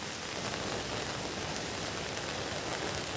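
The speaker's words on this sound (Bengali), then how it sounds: "প্রচণ্ড বৃষ্টি হচ্ছে।" Heavy rain falls in a steady, uniform hiss, fairly distant and soft, with no breaks or voices.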